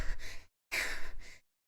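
A voice imitates panting, out of breath, with two heavy breathy gasps separated by a short pause, loud and close.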